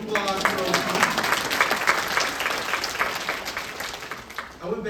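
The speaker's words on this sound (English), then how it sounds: "You can give applause for OT." A conference audience bursts into sustained applause, dense overlapping clapping from a large crowd that fills the room evenly and then tapers off at the very end.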